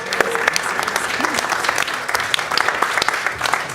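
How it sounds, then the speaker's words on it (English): Audience applause at a live comedy showdown show, dense steady clapping with sharp individual claps standing out, sustained at even loudness throughout. "Round of applause."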